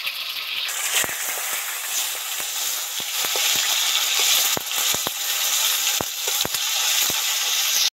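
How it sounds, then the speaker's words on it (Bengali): Tomato sizzles loudly in a hot pan of spice tempering for a poppy-seed and potato dish, a dense continuous frying hiss broken by sharp crackles and occasional stirring clicks, close up. "টমেটোটা সবার আগে দিয়ে দিলাম বন্ধুরা"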